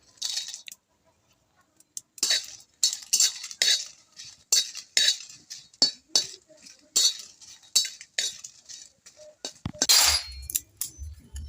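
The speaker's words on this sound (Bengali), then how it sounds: "কড়াইটা গরম হয়ে গেছে এবার আমি শুকনো লঙ্কাগুলো প্রথমে ভেজে নেব" Dried red chillies dry-roasted in a hot wok while being stirred, a steady series of scraping, clinking strokes of a utensil against the pan, close and loud, with a heavier clatter near the end.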